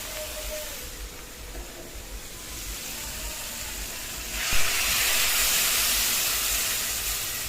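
Hot water is poured into a frying pan of fried fish and stem spinach. A steady sizzle swells into a louder, broader hiss partway through.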